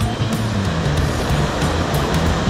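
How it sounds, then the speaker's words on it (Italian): A waterfall on a mountain stream in Andorra pours with a steady, dense roar of rushing water that fills the space evenly, with no voices heard. "con questa magnifica cascata possiamo andare a chiudere questa battuta di pesca"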